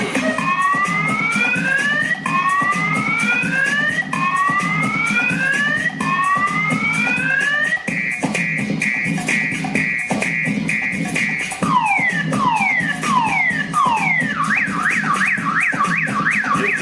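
A loud electronic alarm cycling through patterns: rising sweeping whoops, then a steady pulsing tone, then rapid falling and rising warbles, continuous throughout.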